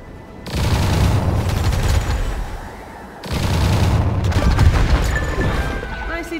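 A heavy weapon fires in the mobile shooter Catalyst Black, two loud sustained barrages of booming blasts split by a brief pause.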